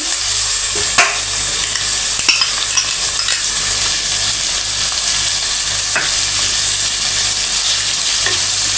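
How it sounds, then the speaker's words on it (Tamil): Onions sauté in a pan with a steady, loud sizzle, and a spatula scrapes and clinks against the metal now and then while the onions are stirred. "வெங்காயம் நல்லா கிளறிட்டு இருக்குப்பா கொஞ்சம் வதங்குது"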